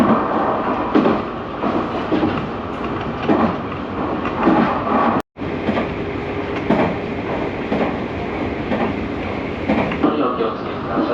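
A Tobu Urban Line express train bound for Kuki rumbles steadily from inside the car, with rhythmic wheel clicks over rail joints, loud and continuous, while an onboard announcement plays over it.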